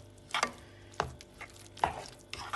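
A spoon works through asparagus risotto with Parmesan and butter in a pot, making a few soft, wet scraping strokes spaced about half a second apart, close and unaccompanied by speech.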